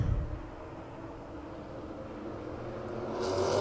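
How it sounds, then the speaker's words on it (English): V8 Supercars race cars revving their engines on the grid before the start of a race, a low steady engine rumble that swells slightly toward the end, heard from a distance. "Starting to pick the revs up."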